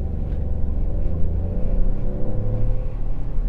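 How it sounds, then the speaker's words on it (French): A Peugeot 208 GT-Line with the 1.2-litre 110 hp engine and EAT6 automatic pulls away from a standstill, its engine a loud, steady low rumble heard from inside the cabin. "on va faire une dernière petite accélération pour le kiff"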